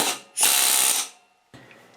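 A pneumatic air tool runs in a loud burst of hissing, whirring air lasting about half a second after being plugged into an air hose, stops, then a fainter rattling follows.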